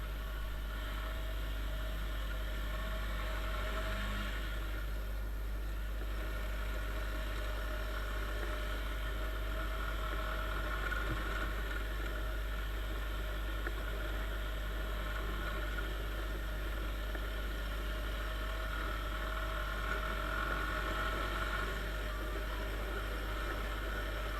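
A Chinese Viper 200 motorcycle on a long ride, its engine giving a steady, continuous drone mixed with rushing road and wind noise that holds an even level throughout, with no talking.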